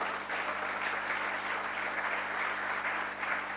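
A church congregation applauds steadily, a dense even clatter of many hands clapping throughout, close and loud with no pauses.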